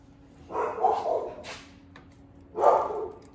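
Pet dogs bark at a cat passing outside an open back door in a home, two short bursts of barking close by with a pause between them.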